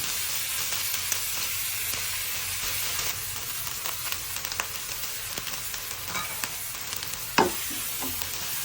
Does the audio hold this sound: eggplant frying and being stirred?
yes